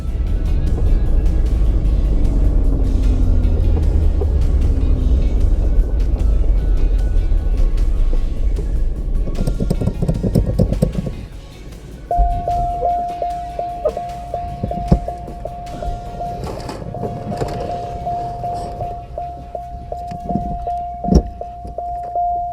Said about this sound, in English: I think it ran out of gas.